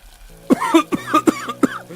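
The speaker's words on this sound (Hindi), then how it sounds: "मैं तो खांस खांस के ही मर जाऊंगा" Several harsh coughs in a row from one person, close by, with short gaps between bursts.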